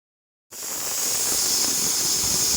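Steady, loud steam hiss from a pressure cooker of dal on a home stove, starting abruptly after a half-second of silence and holding constant without any whistle bursts.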